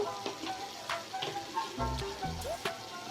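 Spice masala for a rohu fish curry fries in oil as turmeric powder is added, giving a moderate sizzle with stirring scrapes and clinks. A voice talks over the frying.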